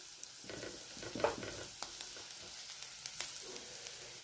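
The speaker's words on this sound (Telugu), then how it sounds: "ఒక పచ్చిమిరపకాయ, సగం తరిగిన పచ్చిమిరపకాయ, ఇవి వేయించుకోవాలండి." Green chillies, one whole and one halved, frying in hot oil in a pan, giving a soft, steady sizzle with light crackles and a few brief stirring scrapes close by.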